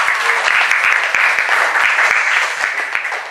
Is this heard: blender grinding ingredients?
no